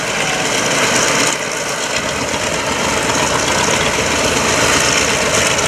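Steady, loud engine drone runs throughout, a continuous rumbling roar of vintage warplane piston engines, including a Corsair, Avenger and Wildcat, at an airshow, with no breaks and no talking.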